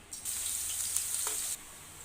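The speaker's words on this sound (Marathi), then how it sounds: "सर्वप्रथम यामध्ये ठेचलेला लसूण टाकणार आहोत" Crushed garlic dropped into hot oil for a fish curry, giving a soft hiss that starts abruptly and cuts off after about a second and a half, faint and close, with no voices.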